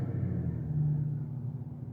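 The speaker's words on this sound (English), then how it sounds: "It was a really loud truck." A loud truck rumbles past outside, a steady low engine drone holding at roughly even strength throughout, with no talking over it.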